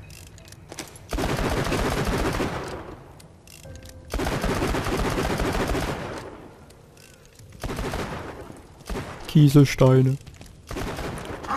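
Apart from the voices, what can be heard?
gunfire emptying a whole magazine in the video game Borderlands 2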